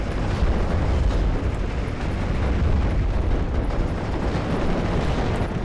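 Mortar barrages in the WWII strategy game Steel Division Normandy 44 produce a dense, continuous rumble of overlapping blasts. The low roar stays loud and unbroken throughout, with no voices.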